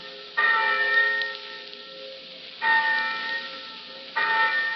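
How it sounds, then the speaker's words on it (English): A college campus bell rings to call students to class, three strong resonant strikes spaced a couple of seconds apart, each leaving a long sustained hum that decays before the next blow. "thousands of eager college freshmen will hear a bell like this, calling them to their first college class"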